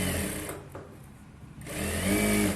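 A sewing machine runs in two bursts of rough stitching, whirring steadily, then pauses in a quieter gap before starting again, close and moderately loud with no talking.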